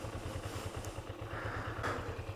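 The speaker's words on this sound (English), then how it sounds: "I've got a motorcycle." Motorcycle engine while riding: a steady, pulsing low engine thrum with a regular firing rhythm, close and continuous, with faint wind and road noise over it.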